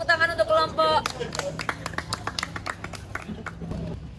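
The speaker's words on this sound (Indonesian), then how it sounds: "Tepuk tangan untuk kelompok." A classroom of students claps for a student group, a burst of scattered, uneven claps following a short spoken phrase, fading into lighter taps.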